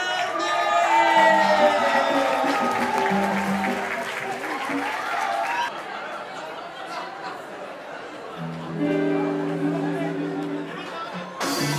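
Sustained applause and cheering from a crowd at a rock album launch concert, a dense wash of clapping with chatter and some laughter, accompanied by tonal sounds that drop out midway and return.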